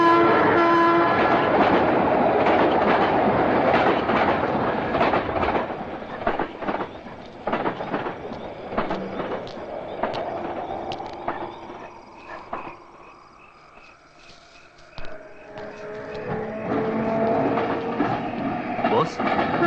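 A train rolls past near a railway bridge, its horn sounding and wheels clattering over the rails, loud at first and then fading with a rising whine, while people talk faintly and crickets chirp in the background.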